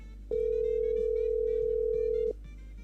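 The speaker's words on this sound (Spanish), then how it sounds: "cuando suena el teléfono es suspenso" Telephone tone on a radio call-in show, one steady electronic tone lasting about two seconds over a low hum, starting and stopping abruptly, with no voices.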